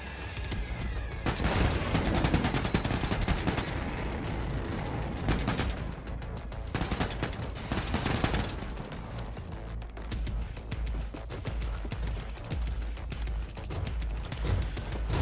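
Assault rifle fire in the first-person shooter Wolfenstein 2 rattles in dense, loud rapid bursts with brief gaps, layered over a constant rumble of combat noise.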